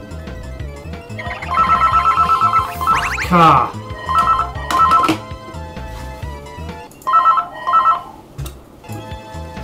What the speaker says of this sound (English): Why is it always when I'm playing a Sonic game the phone rings?